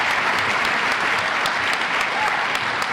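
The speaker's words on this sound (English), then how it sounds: "give them a rousing applause of thanks" A large crowd at an awards ceremony claps steadily and loudly, with the applause sustained throughout without a break.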